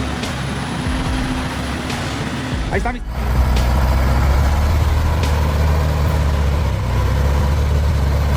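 A heavy truck grinds up a muddy hill, its engine roaring hoarsely in a loud, steady low rumble throughout, with a brief spoken remark partway through.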